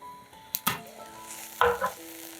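Potato dish frying in a covered pan on low heat: faint, steady sizzle with a couple of brief clattering knocks and a soft rustle of stirring or lid movement, no voices.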